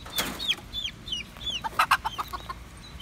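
Backyard chickens cluck inside a coop enclosed by plain chicken wire on a homestead, a series of short, fairly close clucks and squawks coming in a loose, uneven rhythm with no one speaking.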